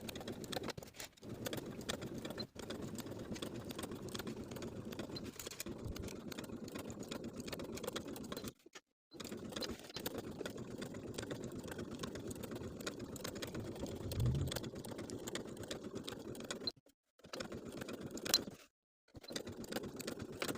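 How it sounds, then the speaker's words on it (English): A sewing machine stay-stitches along the raw neckline edge of a linen shirt, a continuous close mechanical whir broken by a few brief stops. "We're going to sew with a 1/4 inch seam allowance along the entire raw edges of the neckline."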